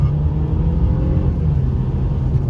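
Engine of a 2016 Mercedes-Benz C300 with a 2.0 turbo at 73k miles, heard from inside as it accelerates with rear wheel spin, a loud steady low rumble and whir with no speech.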